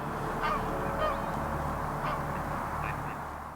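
Greylag geese honk faintly in the distance over a constant wash of outdoor noise at a nature reserve, a few scattered calls spread across the stretch.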